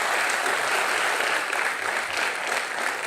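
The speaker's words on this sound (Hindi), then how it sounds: "जितनी ज्यादा जोर से हम ताली मार सकें" Loud studio audience applause on a television talk show, a dense, close, continuous roar of many hands clapping that holds steady throughout.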